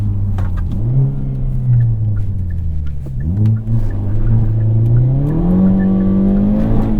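A 2023 Hyundai Elantra N accelerates hard with wheel hop, its engine note loud and close, climbing in pitch, dipping briefly as the tires shudder, then rising again through a gear; no talking.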